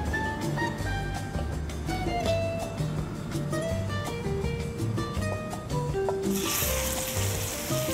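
Chicken searing in a very hot pan with a little oil, a steady close crackling sizzle with a few sharper pops and a louder hiss rising near the end.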